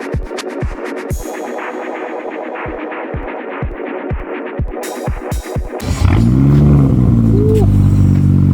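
BMW F10 535i with mufflers and resonator removed, preceded by a series of sharp rhythmic knocks and clatter, then the engine roars loud and close, revving with rising and falling pitch.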